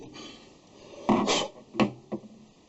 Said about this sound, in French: Un petit coup d'ébarburage.